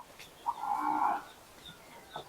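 A cow on a Thai cattle farm gives one clear, drawn-out moo lasting about three-quarters of a second, moderately near, with faint farmyard background before and after.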